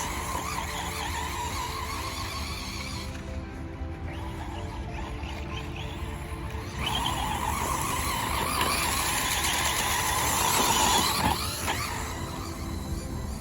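A Traxxas Slash 4x4 Platinum RC truck with Castle Sidewinder 8 6S electronics and an LCG chassis runs nearby, its electric motor whining continuously with rising and falling pitch and scuffing tyre noise.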